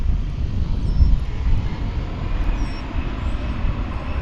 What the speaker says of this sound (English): This looks to be the Atlanta flight. And again, for some reason, it's taking off on this side of the airport.